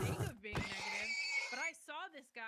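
A gray horse from a herd whinnies in a video game, a wavering neigh rising near the end, with someone talking over the start.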